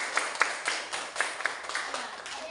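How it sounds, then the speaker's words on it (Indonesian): A small classroom group claps a few quick, light, evenly spaced beats to applaud a student, faint and brief. "beri tepuk tangan buat Yobe"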